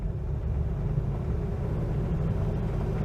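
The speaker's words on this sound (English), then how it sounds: "There's a certain amount of road noise coming through, because there's very, very little sound deadening and an awful lot of painted metal." Steady low road rumble and drone inside a moving Renault 4 with little sound deadening, a constant close hum with no talk.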